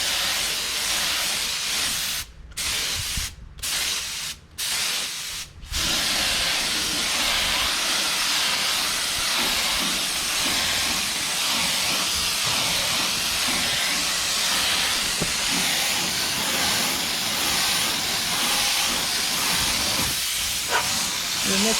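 Spray gun applying a color coat to a 1961 MirroCraft boat that already has a coat on it: a continuous, fairly loud hissing spray with a few short gaps early on, while people talk intermittently.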